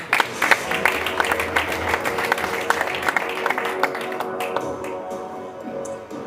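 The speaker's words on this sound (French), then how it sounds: "Merci JD, on peut l'applaudir." Applause at a fight press conference, uneven and moderately loud, with scattered sharper claps and taps over a crowded room, fading toward the close.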